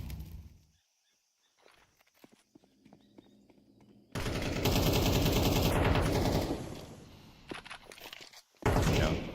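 Gunfire in a Counter-Strike match at a professional tournament, scattered footsteps and quiet clicks first, then a sudden loud burst of rapid shots lasting a couple of seconds, followed by another short volley at the end.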